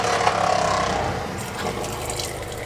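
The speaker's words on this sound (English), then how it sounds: "I'm just gonna run some of this water" Water runs from a faucet into the sink of a Coachmen RV, a steady close splashing stream that holds at a fairly even level for the few seconds, with no talk over it.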